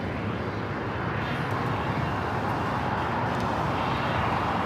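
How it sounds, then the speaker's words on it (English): Finnair Airbus A350 jet arriving at LAX on a flight from Helsinki, a broad steady engine roar that is moderately distant and continuous, with no talk over it. "Finnair A350, Flight 1 coming in from Helsinki."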